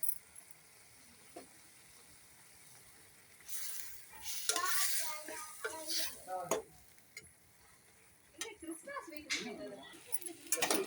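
Ginger garlic paste is stirred and fried in a pan for a prawn gravy, a soft sizzle with bursts of scraping and clattering from the spoon against the pan, and a voice speaking over parts of it.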